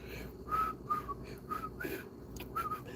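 A person whistles a short, broken tune, with several brief high notes and pauses between them, over a steady background hum.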